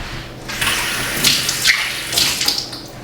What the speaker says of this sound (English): so I'll rinse it off quickly